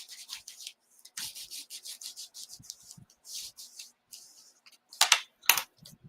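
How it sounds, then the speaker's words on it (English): A burnishing tool rubs across a paper card front in short, uneven strokes, faint and close. A few sharper scraping passes come near the end, and no voices are heard. "And then we'll burnish."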